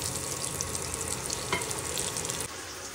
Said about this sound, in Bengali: আলুগুলো হালকা করে একটু ভেজে নিচ্ছি।